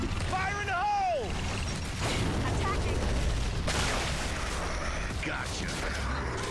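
Gears of War 3 battle din with an ink grenade blast among rolling booms and gunfire, loud and dense throughout, a whistling tonal sweep early on and game voices mixed in.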